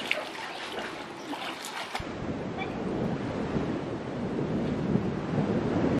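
Jacuzzi jets with bubbles churning the water, a steady loud rushing and bubbling wash that starts abruptly partway in and continues close and unbroken, with a brief fainter stretch of splashing before it.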